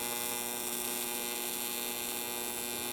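Steady electrical buzz of a TIG welding arc as filler rod is added to widen and blend a bead, a constant even hum with no talk over it.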